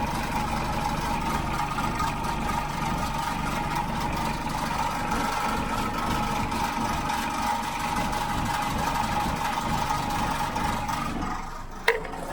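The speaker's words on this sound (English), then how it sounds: "Exhaust is crackling" A Mitsubishi L200 pickup's engine idling steadily on jacks during a prop shaft bearing check, a continuous low rumble with slight exhaust burble, ending in a sharp knock near the close.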